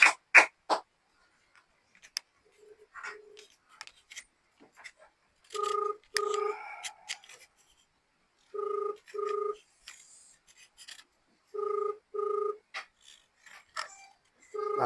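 An outgoing telephone call rings while waiting for an answer. Paired ringback tones repeat at steady intervals, with faint clicks and background rustling between them.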